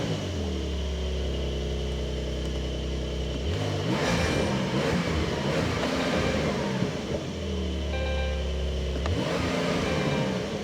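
A 2021 Porsche 911 Carrera S with its exhaust valves open revs hard twice, each time climbing from a deep idle burble to a loud, rasping rise against the limiter before dropping back, with no voices.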